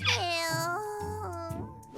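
A Norwegian Forest Cat gives two clear, drawn-out meows in succession, close and fairly loud, each rising then falling in pitch.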